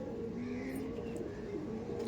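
Pigeons coo softly in a loft, a low continuous murmur of calls at moderate distance with faint background noise.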